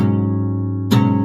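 Sustained guitar note on a capoed guitar in drop D tuning, ringing alone and steady, with a brief brighter pluck or string noise near the end before the tone rings on.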